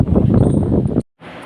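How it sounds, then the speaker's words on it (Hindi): Strong wind buffets a phone microphone on a rooftop, a loud low roar that cuts out abruptly, then returns more faintly. "यहाँ बहुत तेज़ हवा चल रही है"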